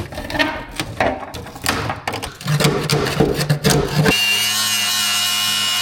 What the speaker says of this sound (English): I'm gonna get the grinder on here, see what that metal looks like underneath.